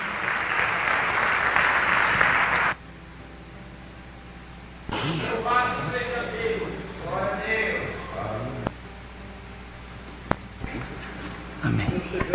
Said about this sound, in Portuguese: Confirme isto aplaudindo ao Senhor Jesus